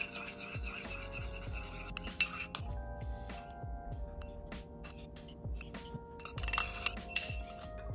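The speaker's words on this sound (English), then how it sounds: "So here's some coconut milk with all those seasonings. I'm gonna mix it up, see what happens." Coconut milk and seasonings are stirred in a glass container, with light clinks of a utensil against glass and soft scraping strokes, quiet and close, repeating irregularly with no talking.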